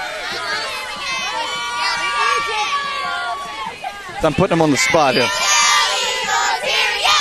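A crowd of students gathered outdoors at Stratford on a hot evening yells a group cheer in a loud, ragged burst of voices midway through, with someone talking over the noise before and after.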